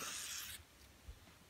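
Cleaner sprayed onto a Smith & Wesson .357 Highway Patrolman revolver: a single steady, hissing spray burst lasting about half a second, close and fairly quiet, followed by faint handling noise.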